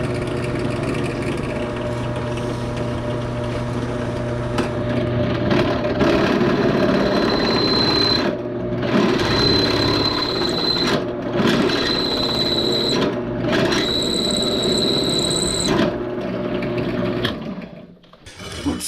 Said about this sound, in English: what I got going on here is I got my drill press. I got a half-inch drill in there